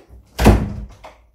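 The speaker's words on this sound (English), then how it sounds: "Close the door." A bedroom door is pushed shut with one heavy, close thunk, followed by a couple of faint knocks as it settles into the frame. No one speaks over it.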